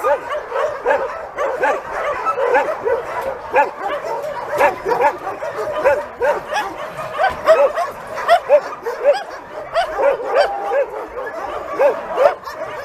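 Several dogs bark and yip in a busy, overlapping chorus, with whimpers mixed in, fairly close and continuous throughout.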